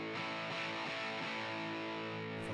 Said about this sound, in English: but I can go to a heavy distortion sound